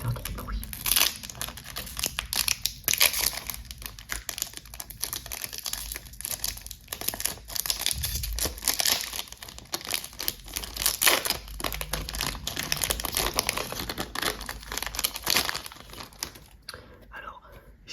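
Pokémon booster pack wrappers being torn open and crinkled up close in a quiet ASMR setting, with continuous dense plastic crackling and rustling throughout and soft speech now and then.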